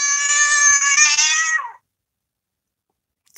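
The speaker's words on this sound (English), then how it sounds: "What is that kitty alarm noise?" A cat lets out one loud, drawn-out, tonal meow lasting about a second and a half, close and clear, then cuts off into silence.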